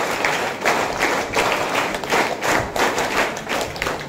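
An audience at a Guru Purnima school event claps together in a counted, rhythmic pattern, loud and close, with repeated groups of sharp claps and brief gaps between them.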